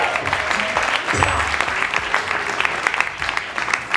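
An audience at an album release party applauds steadily for a singer's first solo album, a dense, continuous clapping that holds at even volume throughout with faint crowd noise underneath.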